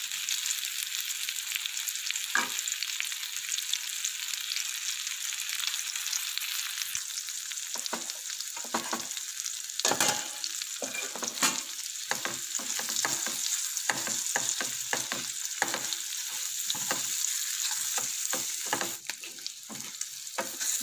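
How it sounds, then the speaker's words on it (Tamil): Paneer cubes lightly frying in melted butter sprinkled with chilli powder, a soft steady sizzle broken by repeated spatula stirs and scrapes against the pan, close and moderately quiet with no voices. "இந்த மாதிரி லைட்டாக ஃப்ரை பண்ணி எடுத்து வச்சுக்கோங்க பன்னீரை"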